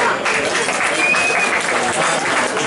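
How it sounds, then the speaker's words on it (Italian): Full, sustained applause from a close audience at a 2019 Christmas party, welcoming a young singer, with a voice briefly heard over the clapping. "Facciamo un applauso"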